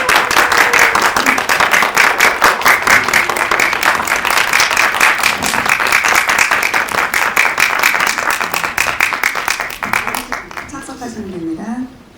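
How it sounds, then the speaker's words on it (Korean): A press-screening audience for a Gwanghwamun romance film breaks into sustained applause as guests walk in, dense clapping that stays loud for about ten seconds, then thins out while a voice speaks near the end. "큰 박수 부탁드립니다."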